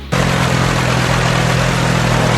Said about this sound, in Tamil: பின்னர் டிராக்டர் உதவியுடன் அவர்கள் விவசாயம் செய்தனர்